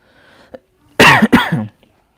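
A mild cough from someone indoors in cold weather after drinking cold water: two close, loud bursts following a faint breathy throat sound, with quiet room tone around them.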